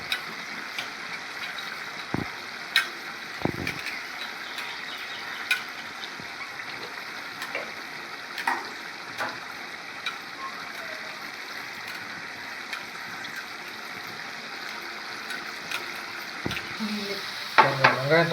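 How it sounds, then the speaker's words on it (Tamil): Onions and tomatoes sauté in a pan for a traditional village-style tilapia fish curry, with a low, even sizzle broken by repeated spoon scrapes and stirring knocks, close and fairly quiet. "வெங்காயம் தக்காளி நல்லா வதங்கிச்சு."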